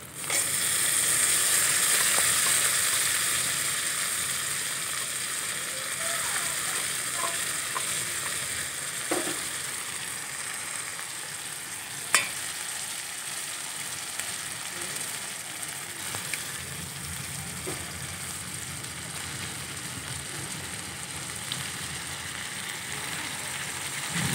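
A spice paste of tomato, dried chillies, cumin, ginger and garlic sizzles in a pan for ghugni, a loud hiss that settles into a steady crackling fry with a few stirring clinks, close-up, with no voices.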